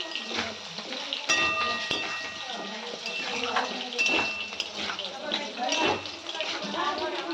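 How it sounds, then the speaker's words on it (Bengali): Pumpkin pieces are stirred and fried in a pan with salt and turmeric: repeated metal spatula scrapes and clinks ring over a continuous sizzling hiss, close and busy. "এটা নেড়ে চেড়ে খুব সুন্দর করে ভাজা ভাজা করে নেব"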